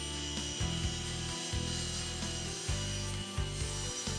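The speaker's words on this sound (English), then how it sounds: "Align the blank with the new kerf and make a second cut at 90 degrees." Japanese-style pull saw cutting a wood blank square at 90 degrees in an adjustable miter box, repeated rasping strokes in a steady back-and-forth rhythm, close and fairly quiet, no talk.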